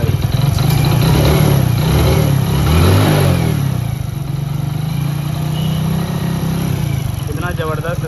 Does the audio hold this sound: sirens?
no